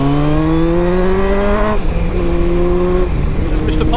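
A Honda CBF 1000 motorcycle engine hums steadily while riding, loud and close, its pitch rising through a gear then dropping and climbing again after a shift, with wind noise throughout and no talk.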